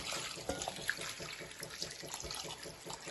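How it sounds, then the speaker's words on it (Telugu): Water pours steadily into a pot of spiced country chicken curry with a soft splashing rush, faint and continuous, no voices. "ఇప్పుడు కొంచెం వాటర్ పోసుకుందాం"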